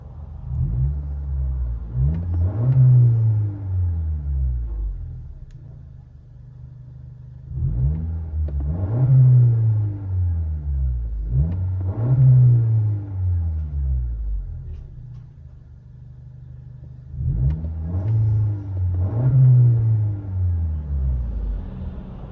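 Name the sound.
car exhaust revving heard from inside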